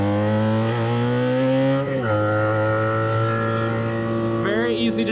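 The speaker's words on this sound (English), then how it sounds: "let's get a little highway power," A loud BMW R nineT motorcycle engine accelerates on the highway, its steady rising drone shifting gear once and climbing again close to the rider.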